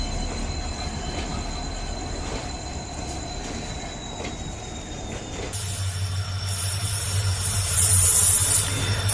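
An Indian passenger train rolls past with a steady rumble of rail clatter that grows louder, then shifts to a high wheel squeal near the end.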